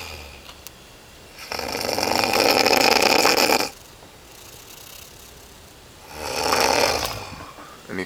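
A sleeping man snores loudly and harshly, with two long rasping inhalations separated by a quieter pause, close to the microphone.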